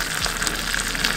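Tempering for kaalan curry hissing in a hot pan, a brief dense sizzle heard close up and alone.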